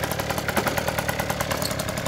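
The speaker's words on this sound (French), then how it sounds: "Rares sont les scooters qui tiennent ralenti" A 1990 collector scooter's small engine idles steadily up close, a busy even putter with a slightly uneven pulse throughout, with no voices over it.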